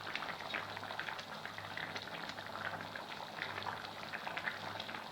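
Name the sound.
chicken biryani cooking under a lid in a pot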